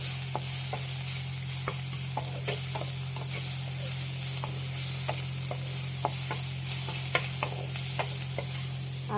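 Onions sizzle and fry steadily in a pan, with repeated sharp stirring scrapes and clicks over a constant low hum, heard up close and without any talking.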